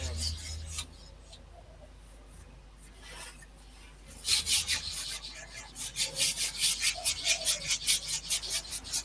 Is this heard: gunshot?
no